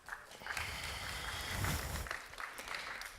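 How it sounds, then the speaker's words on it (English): Audience applause fills a keynote hall at a BIMobject live event, a steady dense wash of clapping hands that holds at an even level throughout, swelling slightly near the middle. "I hope that's the applause for the one."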